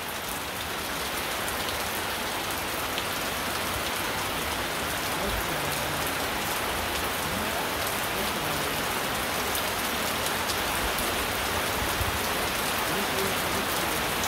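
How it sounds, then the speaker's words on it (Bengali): Morning rain falls steadily outside a house in the countryside, a constant loud patter on surfaces that stays even and unbroken throughout, with no voices over it. "একটু শুরু হয়েছে বৃষ্টি"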